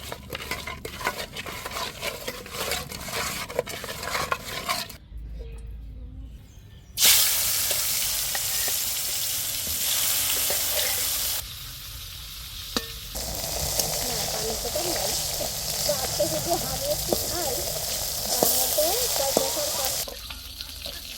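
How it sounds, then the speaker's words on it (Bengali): Fish rubbed with salt and turmeric fries in a pan, a loud continuous sizzle with stirring and clinks of utensils, briefly dropping away before surging back. "ভাজা করবো মাছটা"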